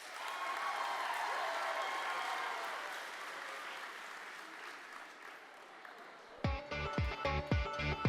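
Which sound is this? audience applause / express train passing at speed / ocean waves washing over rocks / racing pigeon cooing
audience applause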